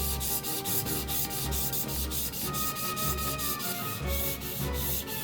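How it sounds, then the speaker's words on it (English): A kitchen knife, the blade of a keyboard-style build, drawn in steady back-and-forth strokes across a 2000 grit whetstone, giving rhythmic wet rasping scrapes about twice a second, close and fairly loud with no voices. "And then I move on to the 2000 grit whetstone."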